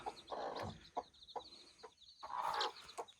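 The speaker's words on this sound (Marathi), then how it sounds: "कोंबडी बसली हत" A hen clucks repeatedly nearby in soft, uneven bursts, with high chirping of small birds or chicks running underneath.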